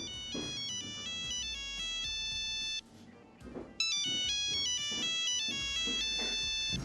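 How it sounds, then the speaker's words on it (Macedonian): A phone's melodic electronic ringtone plays loud and close, repeating its tune, cutting off briefly and then starting again. "само телефонот ми звони"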